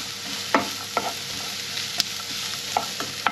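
Onions frying in olive oil over low heat, stirred in the pan: a steady close sizzle with several sharp scrapes of the utensil at irregular intervals, no talk.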